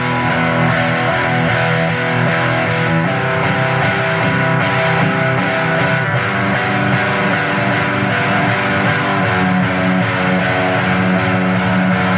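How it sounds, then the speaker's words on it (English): Loud, heavily distorted electric guitar power chords play continuously over a steady driving beat. "And then the heavy guitars kick in."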